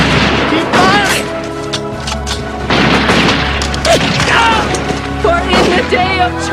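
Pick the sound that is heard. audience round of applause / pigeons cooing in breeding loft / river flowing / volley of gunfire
volley of gunfire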